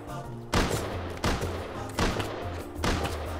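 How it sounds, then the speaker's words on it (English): Revolver gunfire in the Rust survival game rings out in four sharp, loud single shots, spaced roughly evenly, each with a short decaying tail over a low ambient hum. "Big revolver fight going on next to me."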